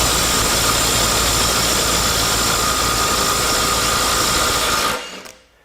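A Milwaukee or Ridgid stubby sub-compact impact wrench runs bolts at 400 foot-pounds: a loud, continuous rapid hammering whir with a steady high whine, holding for about five seconds before abruptly stopping.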